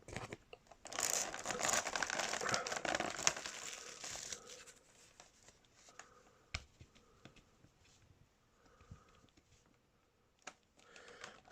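Plastic packaging crinkles and rustles loudly in dense bursts while a Mezco The Shadow action figure is unboxed, then quieter scattered handling crackles and taps follow with no talking.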